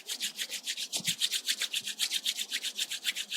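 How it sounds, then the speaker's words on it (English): Palms rubbed briskly together during a yoga breathing session, a close, quick rhythmic swishing of many strokes back and forth with no voice. "Rub your palms."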